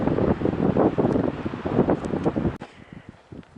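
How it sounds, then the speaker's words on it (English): Strong wind of about 20 miles an hour gusting on an exposed mountain trail in Santa Fe National Forest, a loud continuous roar buffeting close to the microphone before easing noticeably near the end. "that wind is blowing 20 miles an hour"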